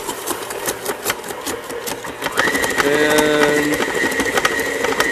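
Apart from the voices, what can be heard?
ice cream mixer struggling as mixture thickens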